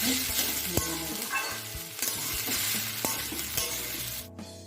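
Chopped vegetables sizzle steadily in a hot pan while a utensil scrapes and stirs, with a few sharp clinks against the metal.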